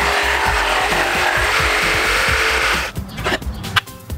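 A Rockwell BladeRunner X2 tabletop saw cuts through scrap plywood, a loud continuous rapid buzzing chatter for about three seconds before the blade winds down into a few scattered knocks and clatters.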